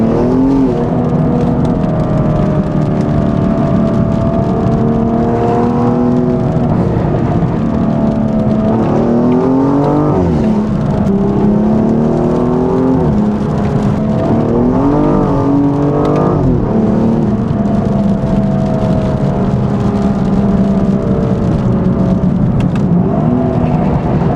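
A loud BMW M235i N55 engine with an aftermarket axleback exhaust and downpipe revving and shifting through gears in rain, with sharp crackling pops from the exhaust scattered across the steady roar.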